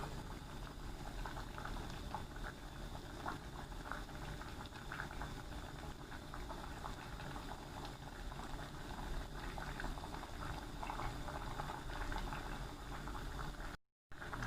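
Isan-style sour bamboo shoot soup with chicken bones at a rolling boil, a continuous close bubbling and churning that stops abruptly just before the end.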